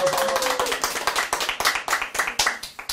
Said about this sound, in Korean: 그 아가씨한테 박수 한번 보냅시다